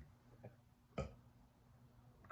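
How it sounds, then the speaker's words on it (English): A single short, low burp lands near the middle, fairly close and moderately loud against quiet room tone, with a couple of faint small noises around it. "Confirmation burp."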